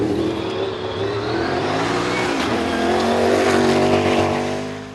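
A Milner R5 cross country racing car runs hard around a British Cross Country Championship course at Pikes Peak, its loud, close engine revving and climbing steadily in pitch throughout, with no talk.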